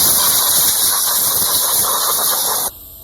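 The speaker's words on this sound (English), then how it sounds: "So I like to use a blowgun" Compressed-air blowgun cleaning around the spark plugs of a Mercedes engine, a loud, steady close-up hiss of rushing air that stops abruptly near the end.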